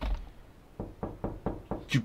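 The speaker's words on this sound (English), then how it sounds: "Don't you do that knocking." Five evenly spaced knocks on a door in the horror video game The Mandela Catalogue, firm and close, followed by a brief higher sound at the end.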